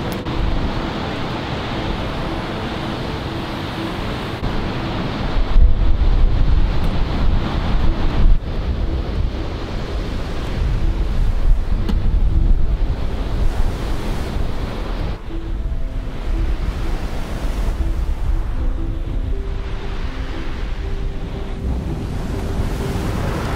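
Strong wind buffets the microphone on the Oregon coast while surf crashes and rumbles continuously, with gusts swelling and easing over a steady roar of waves.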